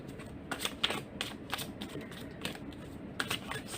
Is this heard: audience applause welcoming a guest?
no